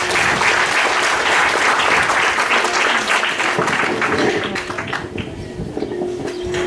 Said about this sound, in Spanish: eso merece pues un buen aplauso